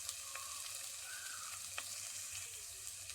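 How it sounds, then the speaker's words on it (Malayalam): Tomato and onion masala for fish curry sizzles steadily in a pan, a dense continuous frying hiss with occasional light stirring taps, close and even throughout. "ഇനി കുറച്ച് സമയം ഇത് ഇളക്കി കൊടുക്കാം."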